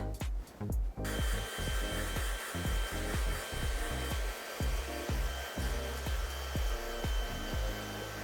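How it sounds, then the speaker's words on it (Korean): A hair dryer whirs steadily with a high whine, its airflow pulsing rhythmically as it is moved back and forth through short permed hair. "저는 오늘 드라이기로 한번 말려 보겠습니다."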